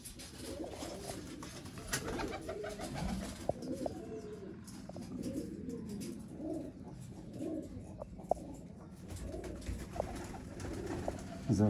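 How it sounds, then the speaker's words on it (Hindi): A favourite female breeder pigeon cooing in a loft: repeated soft, low rolling coos at close range, with faint chirps and small clicks in the background, no talk. "ये मलिक साहब की मोस्ट फेवरेट कबूतरी है जी"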